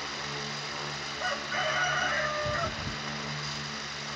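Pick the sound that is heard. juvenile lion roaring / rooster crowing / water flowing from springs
rooster crowing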